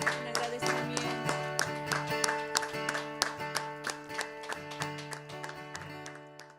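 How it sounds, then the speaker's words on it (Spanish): A church congregation claps in a roughly steady rhythm, sharp repeated claps over a sustained musical tone, moderately distant and fading toward the end. "Te aplaudimos, Señor, en agradecimiento."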